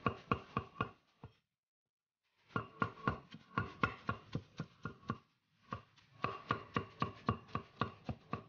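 Boiled young jackfruit is chopped finely with a knife, making rapid, rhythmic thuds on a board in three bursts separated by short pauses, close and clear, with no talking.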